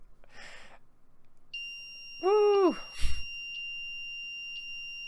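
A homemade Arduino alarm clock gives a steady electronic beep tone that keeps sounding under a short exclamation and some quiet talk, with a brief warbling tone near the start of the alarm.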